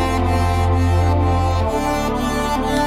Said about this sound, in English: if now we're gonna play all the melodies we made